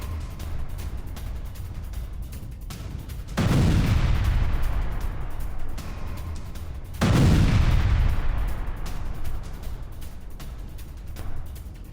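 Two heavy booming blasts from an Iskander missile strike on a Patriot air defence system in Ukraine, each a loud deep impact with a long rumbling decay, over a steady noisy background.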